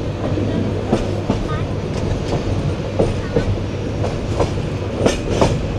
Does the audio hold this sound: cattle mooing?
no